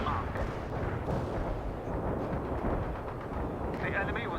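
Heavy artillery barrage in the World in Conflict: Soviet Assault strategy game, with dense continuous rumbling blasts and booms that stay loud throughout and sit under voices talking over radio chatter.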